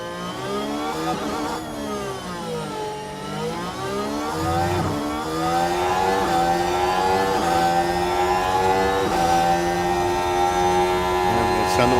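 A Honda Formula 1 car engine revs in F1 Manager 24 at Monaco, rising and falling through gear changes in a steady, loud, continuous harmonic whine that holds for the whole stretch, with commentary running underneath.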